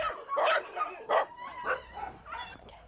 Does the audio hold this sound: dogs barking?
yes